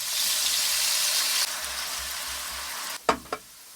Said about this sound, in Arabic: بوتيتا مقطعيها على شكل مربعات ناعمة. أول شي نقليها